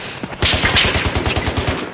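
Rapid automatic gunfire in the Battlefield video game, a loud, close burst of evenly spaced shots rattling off in quick succession.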